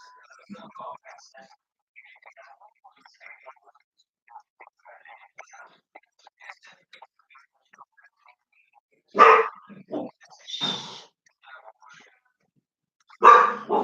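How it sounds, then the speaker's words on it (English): Dogs barking upstairs set off a dog nearby, which answers with a few sharp, loud barks in separate bursts after a stretch of quiet whispered talk. "The dogs upstairs are going nuts, so my dog's reacting."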